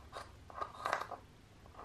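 Scissors snipping through the hem of a T-shirt, a few quiet, close, crisp cuts in a short burst with no talk.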